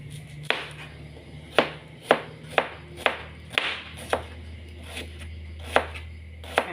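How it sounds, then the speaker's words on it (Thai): A knife chops shallots on a cutting board in about a dozen sharp, irregular strokes, close and clear over a low hum. "เดี๋ยวหั่นหอมแดงก่อนค่ะ"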